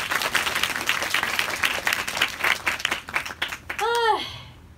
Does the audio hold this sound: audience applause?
yes